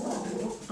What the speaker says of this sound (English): There's the other dog.